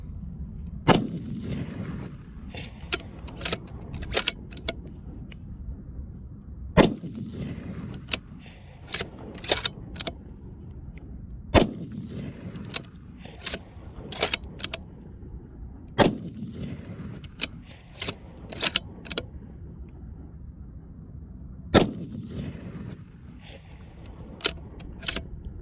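Shots from a Howa 1500 rifle fired across a chronograph at a range: a series of sharp, loud gunshot cracks spaced a few seconds apart, each followed by a short echo, with faint mechanical handling noise between them.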